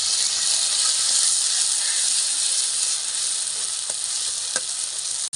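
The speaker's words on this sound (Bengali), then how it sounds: "এবার দিয়ে দেবো নারকেল আর সর্ষে বাটা দিয়ে পাঁচ মিনিট হালকা আজে ভেজে নিতে হবে" Coconut and mustard paste frying with onions in a pan, a loud continuous hiss of oil sizzling with a few faint clicks of stirring, no talking.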